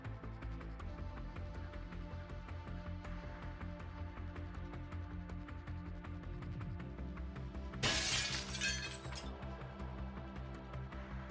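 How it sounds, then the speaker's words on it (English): A glass door suddenly shatters midway, a bright, crashing burst of breaking glass lasting about a second and a half over steady background music. "as he opened the glass door on his way out, it shattered right behind him"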